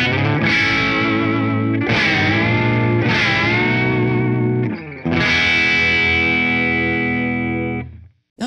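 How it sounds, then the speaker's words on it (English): A Gibson SG Standard electric guitar with a Maestro Vibrola is played loud and distorted. Sustained chords are struck repeatedly and bend downward in pitch as the vibrato arm is pushed, before a final cutoff. "Let's actually start to dive bomb a little bit, and to the keen ear, you want to listen because it's going to start to go a little bit flat"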